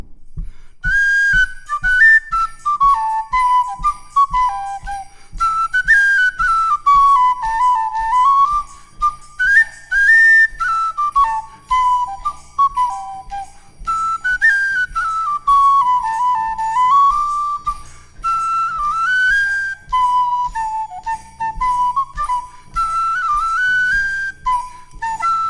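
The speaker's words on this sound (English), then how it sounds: "So you got to keep the rhythm going when I change whistles" A tin whistle plays the fiddle tune Red-Haired Boy, a bright, lively melody with quick ornamented runs, loud and close, over a steady low rhythmic pulse that continues throughout.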